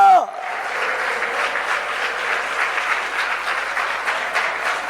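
A church congregation at a fasting prayer convention claps together in sustained, dense applause that fills the room. A voice sounds briefly at the very start.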